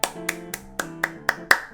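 Seven sharp hand claps in a quick, even rhythm, close and crisp, each with a brief ringing decay, with no voices.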